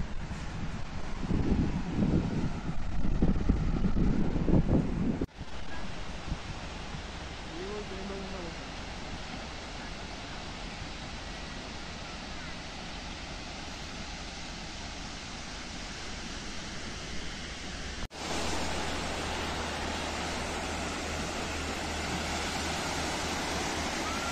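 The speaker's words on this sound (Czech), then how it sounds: "Není to moře, je to oceán, Atlantský oceán." Atlantic Ocean surf and coastal wind on the Portuguese shore give a steady broadband wash, with louder rough gusts buffeting the microphone early on before settling into a continuous even roar.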